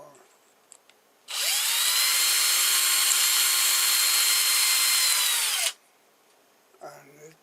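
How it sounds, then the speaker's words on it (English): A power drill bores out a tiny support inside a crank gear hole on an Albott ABT LT 3301 tripod, a loud steady whine running about four seconds close up, with faint handling noises before and after. "this will drill out that tiny sort of support in the hole"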